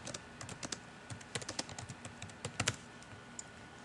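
Quick bursts of key clicks from a computer keyboard as a comment is typed into grading software, irregular and close, with no voices.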